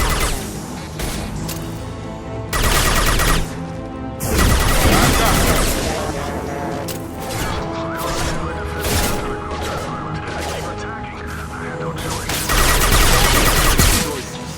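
Bursts of gunfire from the video game Mass Effect 2, dense volleys and repeated shots crashing loudly in clusters over about fifteen seconds, with game voices talking between the firefights.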